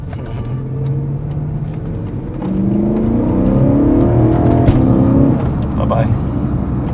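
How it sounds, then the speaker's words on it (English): Car engine revs hard while accelerating, its tone climbing and growing louder through the gears, close and sustained in a 1977 Porsche 911 S or 2011 BMW E93 on a test drive; a voice talks over it. "You really have to wind this car out."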